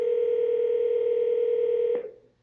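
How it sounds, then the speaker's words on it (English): A desk phone sounds a steady electronic dialing tone, a single sustained DTMF-style note held loud and close for about two seconds before cutting off abruptly. "when you answer, it's dialing that number for you"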